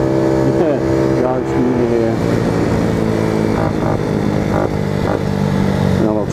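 A Tao Tao Racer 50 scooter engine revs up loudly and steadily in a rising whine, dominating the clip with no break.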